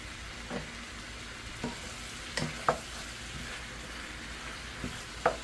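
Sweet potatoes, zucchini and Cajun sausage stirred in a pan, with a steady low sizzle and a few sharp scraping knocks of the utensil at irregular moments, close and moderately quiet, with no voices.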